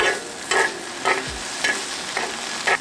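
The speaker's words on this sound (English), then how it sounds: "Let it sizzle for 10 seconds." Soy sauce sizzles in a pan on a camping stove, a steady frying hiss broken by roughly six sharp bursts of stirring at regular intervals, close and moderately loud with no talking.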